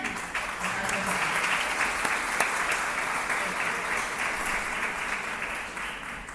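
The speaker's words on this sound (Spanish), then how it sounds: "sí les pido un aplauso de bienvenida" Sustained welcoming applause from an audience, a dense even patter of clapping that holds steady throughout.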